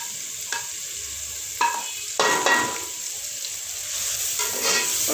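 Salt, chilli, turmeric and dried coriander frying in a pan for chickpea pulao, a soft steady sizzle with a few sharp stirring scrapes, close and alone.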